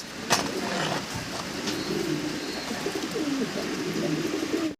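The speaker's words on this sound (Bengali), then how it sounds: "স্ক্রিনের দর্শক আমরা এখানে বেশ কয়েক জোড়া কবুতর দেখতেছি" Several pairs of pigeons at a farm, kept in cages, coo steadily and close by, with a soft low rolling call repeating throughout and no talk.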